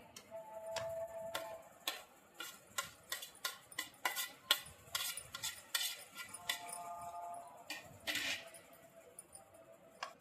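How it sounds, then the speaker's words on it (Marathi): A spoon mixes a spice stuffing with chopped coriander in a bowl for stuffed okra (bharli bhendi), producing quiet, irregular clinks and taps against the bowl with soft scraping in between. "हे सगळं चांगलं मिक्स करून घ्यायचं आहे जेणेकरून सगळे मसाले लागतील सारणाला"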